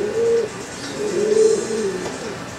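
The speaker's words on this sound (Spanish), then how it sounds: "por allá soltaron 3 palomas" Pigeons coo nearby in soft, repeated low rolling calls, several overlapping phrases against faint background noise.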